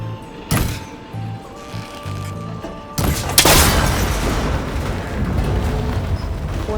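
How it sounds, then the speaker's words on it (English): A sharp boom as a cable connector on an ancient tower in Horizon Forbidden West is shot, followed by a heavier crashing burst and rumbling debris, loud and close. "The connector's holding the cables together. It should break if I shoot it."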